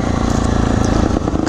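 A motorcycle fitted with a modified, loud open exhaust runs steadily up close, a continuous throaty engine drone with no voices over it.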